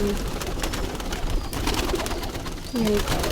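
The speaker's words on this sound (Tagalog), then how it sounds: "ito yung mga kalapati oh, mga baby kalapati na malalaki na ito" Pigeons coo softly a few times nearby, low throaty calls over rustling and faint background noise.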